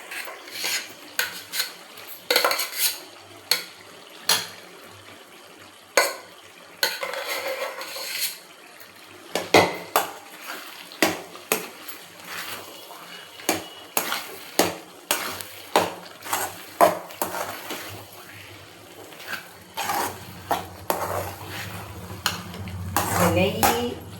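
Sautéed pongal ingredients get stirred in a pressure cooker, a metal spoon clanking and scraping against the pot in a long series of sharp, uneven strikes, close and fairly loud.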